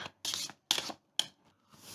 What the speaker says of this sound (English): Take the remaining hunt cards and shuffle them into a deck